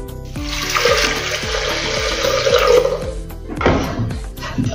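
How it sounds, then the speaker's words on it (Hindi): Water poured into a pressure cooker holding moong dal, a steady close splashing gush lasting a few seconds, then a brief final splash and trickle. "अभी इसमें हम पानी डालेंगे।"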